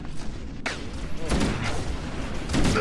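Gunfire in Halo: Combat Evolved comes as a few sharp bursts spread across a short, busy stretch of battle noise, loud and close, with a voice briefly calling out over it.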